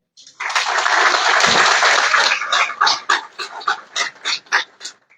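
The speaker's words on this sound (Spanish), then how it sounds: "para quien les pido también un aplauso." Audience applause at a book launch for a history of Mexican independence at a university hall: a dense burst of clapping for about two seconds that thins into scattered claps and voices.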